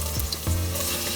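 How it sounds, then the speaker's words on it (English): Potato fries in hot mustard oil with a pinch of turmeric, a brief, dense, close sizzle running alone over a low steady hum. "We will fry the potato first."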